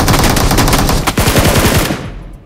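Loud, sustained automatic gunfire from a weapon in the battle royale video game BGMI, a rapid unbroken burst of shots up close lasting about two seconds before cutting off.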